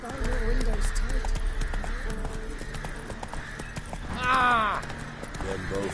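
Horse hooves galloping in The Witcher 3, a rapid steady clip-clop running throughout under game voices, with a brief neigh partway through.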